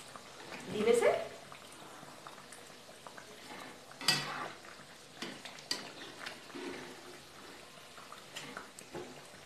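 Bread kachori sizzles softly in oil in a pan, a quiet steady frying hiss punctuated by occasional clinks and stirring scrapes, with a voice talking over it.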